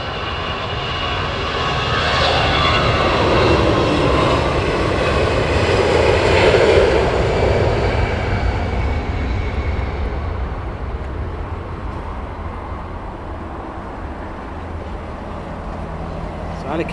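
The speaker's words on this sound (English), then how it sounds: "We'll have a few small ones getting ready for departure now. Taxiing down, runway 27 right." Aircraft taxiing for departure on runway 27 right at Heathrow Airport, a loud steady jet engine roar that swells and slowly fades, carried on with no talk.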